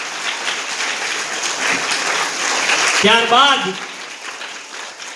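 A crowd applauding to honour a guest at a village primary school enrolment ceremony, a continuous broad clapping wash with a voice speaking over it partway through.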